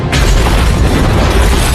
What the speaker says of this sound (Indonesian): sebuah ledakan terjadi